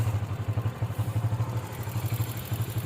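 A speedboat engine plays from a TV, a steady pulsing low drone with a rapid throb that runs unbroken, modest in level and slightly distant as if from a room speaker.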